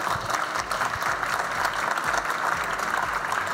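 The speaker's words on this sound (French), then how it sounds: "Vous pouvez l'applaudir s'il vous plaît." An audience at a French insurance industry late-show event claps steadily, a dense, even burst of applause sustained throughout without voices.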